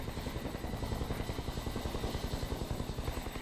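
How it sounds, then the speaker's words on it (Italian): Helicopter in the video game Kane & Lynch 2: Dog Days, steady loud rotor chopping with rapid regular beats throughout, close and continuous with no talk. "Elicottero!"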